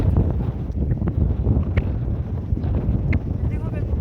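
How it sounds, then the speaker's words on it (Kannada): Strong wind buffets the microphone in a constant roaring rush, with faint rattles and clatter beneath it. "ಮಸ್ತ್ ಗಾಳಿ ಇದೆ"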